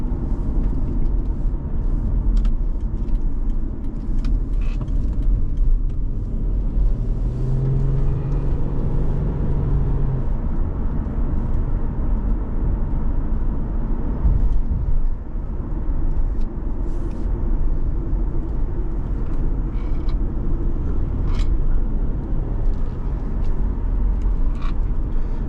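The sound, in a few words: 2012 Subaru Outback 3.6R engine while driving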